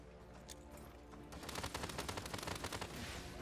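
Rapid bursts of gunfire from the Paladins hero Viktor, starting faint and turning into dense, loud volleys of repeated shots in the second half, with no talk over them.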